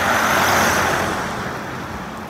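A car drives off along a mountain road in Abkhazia, giving a steady broadband road and engine rumble that is loud at first and slowly fades as it pulls away.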